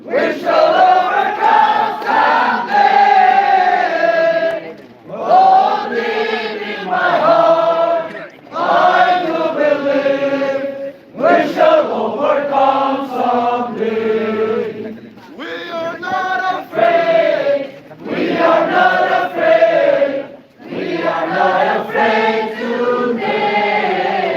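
A crowd of student protesters in Washington, DC, raise their voices together in loud, sustained chanting that comes in rhythmic bursts with brief pauses between them.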